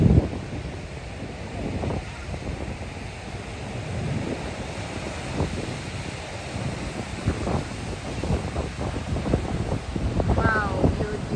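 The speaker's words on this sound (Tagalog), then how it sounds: "Ang laki ng mga alon." Large ocean waves breaking along the North Shore of Hawaii at dusk, a steady wash of surf and wind noise rumbling throughout, with a voice talking over it.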